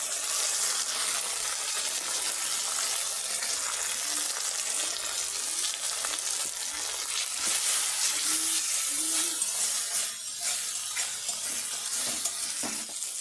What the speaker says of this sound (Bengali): মশলাটা কষাতে কষাতে ওর মধ্যে আমি নুন ও হলুদ গুঁড়ো দিয়ে দেবো